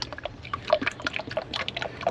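Motor oil pours into a Honda Odyssey engine during an oil change, a soft steady trickle with faint splashing, quiet and close.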